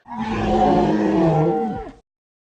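A Jurassic World toy dinosaur lets out a single loud, electronic growling roar lasting about two seconds, close and alone before cutting off abruptly.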